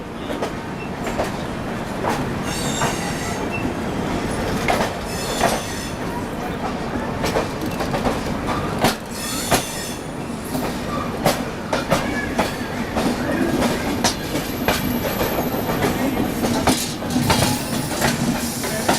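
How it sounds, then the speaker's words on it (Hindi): The Prayagraj Humsafar Express pulls out of New Delhi railway station, a loud continuous roll of rail cars with steady clickety-clack from the wheels over joints and occasional wheel squeal, close by and without talk. "अभी अपनी प्रयागराज हमसफर एक्सप्रेस निकल चुकी है नई दिल्ली रेलवे स्टेशन से।"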